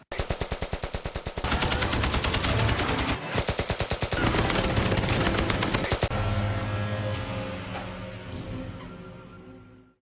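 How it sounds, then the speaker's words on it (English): Machine gun fire, loud sustained automatic bursts with rapid rhythmic shots, a brief break midway, then a long roaring burst that tapers off. "Machine guns."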